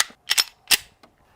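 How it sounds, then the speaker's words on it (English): Three sharp cracks from 10 mm rounds fired at a wood core in a ballistics test, loud and close, two in quick succession then a third, followed by a faint fourth report. "I'm just gonna shoot the center, that brown core with a 10 mil real quick and just see what happens"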